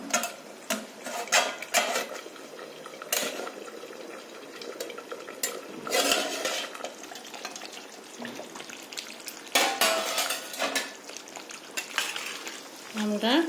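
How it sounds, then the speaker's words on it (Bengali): Clattering metal and pot noises in a home kitchen where Bengali boal fish chorchori is cooking, with a lid lifted off the pot amid scraping and stirring clinks over a soft background sizzle. "এখন ঢাকনাটা খুলি।"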